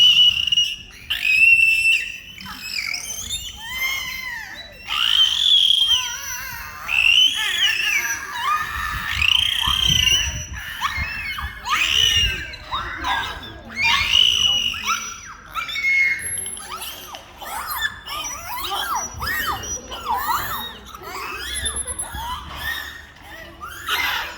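Dolphins at the Gagra dolphinarium whistle in a long, continuous stream of high squeals, chirps and rising whistles, loud and close, with crowd noise low beneath.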